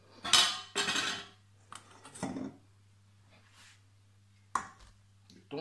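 Hard-boiled eggs and tuna are mixed in a bowl with a utensil, giving a few loud clinks and scrapes in bursts separated by quiet pauses, over a low steady hum.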